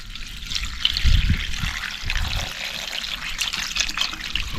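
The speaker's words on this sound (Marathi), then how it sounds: "आता साधं पाणी ओतायचं." Water trickles and splashes as it is poured over dried shrimp (sukat) to rinse it, a soft, steady flow with a few louder gurgles.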